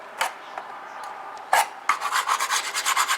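Loose paint is scraped off a door jamb, first with a few isolated scratches, then with a run of rhythmic, rasping strokes close up.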